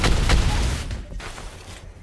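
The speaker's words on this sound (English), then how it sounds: "Our turret has been destroyed." A turret is destroyed in the mobile game Mobile Legends: a loud burst of booming, crackling impacts up front, then a rumbling fade and a short swell at the end.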